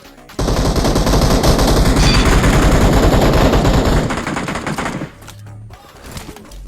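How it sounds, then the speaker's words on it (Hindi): Intense automatic gunfire from a BGMI (PUBG Mobile) battle royale match, a dense rapid burst of shots running for several seconds near and loud before cutting off into quieter game ambience. "लेकिन इस छोटे वाली इवेंट के पास गोली चली थी।"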